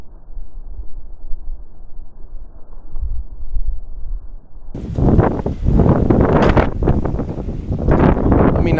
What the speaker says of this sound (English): It is windy out here, so I put the little fuzzy thing on the mic.